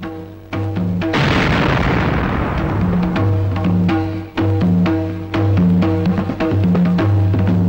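A film scene with a paper bomb going off, a loud burst followed by rumbling debris while dramatic music keeps playing over it.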